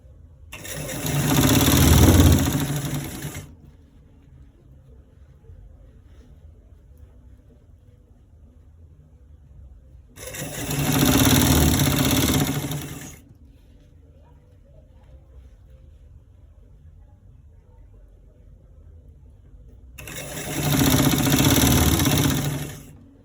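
A sewing machine stitches a stretchy collar roll in three separate whirring bursts spaced several seconds apart, each loud and close, with quiet gaps between them.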